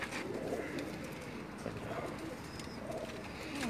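Pigeons coo softly and repeatedly on a rooftop loft in Jeddah, a low steady murmur of several birds under faint background hiss, with no talking.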